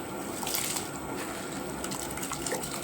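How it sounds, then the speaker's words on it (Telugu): Soaked rice for chicken dum biryani pours into a pot of boiling water, giving a steady, close watery gush and bubbling that holds evenly for a few seconds with no voices. "ఇవి ఇలా ఈ మరుగుతున్న ఈ ఎసరు వాటర్లో పోసేసుకుని"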